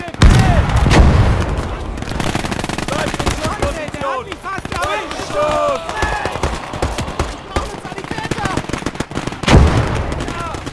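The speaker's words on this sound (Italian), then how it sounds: "Qui che mi stanno a sparare il carro armato." Gunfire rattles at a tank during a World War II battle in Gates of Hell, with repeated sharp shots and bursts, some heavy thuds, under a voice talking over the action.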